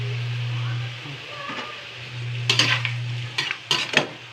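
Meat sautéing in a pan, a soft sizzle over a steady low hum, with a few loud scraping stirs against the pan near the end.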